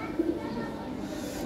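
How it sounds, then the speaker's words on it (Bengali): Big show-quality Lahori pigeons coo softly and steadily, low murmuring calls repeating close by with one brief louder note, voices of people talking mixed in underneath. "শো কোয়ালিটি কবুতর, বিগ সাইজ, 100 কবুতর"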